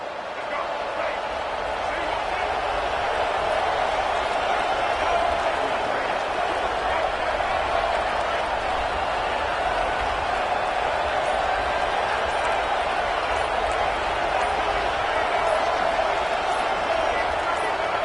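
A stadium crowd in a football video game roars steadily and loudly for the whole stretch, a dense sustained wall of cheering with no single voice standing out.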